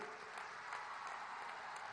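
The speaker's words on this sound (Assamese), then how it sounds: "সকলোৱে তেখেতৰ কাৰণে এটা দীঘলীয়া হাত চাপৰি" An audience applauds at length during a public event about the Prime Minister's visit to Kaziranga, a steady, fairly distant patter of many hands clapping throughout, with no clear voices on top.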